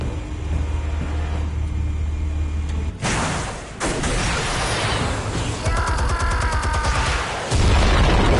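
A loud explosion from armed and fired explosives erupts suddenly after a low steady rumble, then a second blast follows with a long roaring, crackling aftermath and another heavy boom near the end, with no talk.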